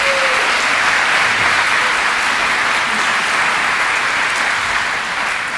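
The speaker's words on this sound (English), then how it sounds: "Can we give them one more big round of applause?" At a Grandparents Day school event, a packed audience gives sustained, loud applause for first and fourth graders, a dense, even roar of clapping that holds steady and fades slightly at the end.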